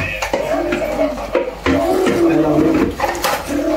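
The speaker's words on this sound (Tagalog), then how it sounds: "Siya na rin yung maghugas ng pinggan" Dishes being washed after dinner: plates, pans and cutlery clinking and clattering in quick irregular knocks and scrapes, close and loud, with running movement between clanks and no clear talking.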